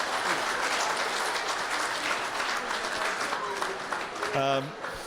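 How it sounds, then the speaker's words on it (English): Dense applause from an audience at a woodworking expo awards announcement, sustained clapping filling the room, with a voice briefly rising near the end. "So round of applause for Don as well."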